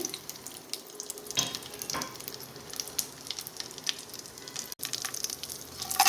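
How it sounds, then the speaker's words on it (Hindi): Raisins and cashews sauté in a tablespoon of hot oil for a chicken mandi garnish, giving a soft continuous sizzle with light crackles and occasional stirring clinks, close and moderately quiet. "और दूसरी तरफ मैंने 1 टेबल स्पून ऑयल लिया है और इसमें मैं डाल रही हूँ किशमिश और काजू"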